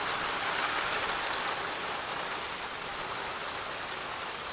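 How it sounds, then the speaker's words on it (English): Heavy rain pours down steadily and loudly, a dense continuous hiss of drops close by during a severe thunderstorm chase, with no voices. "It literally just started pouring out of nowhere"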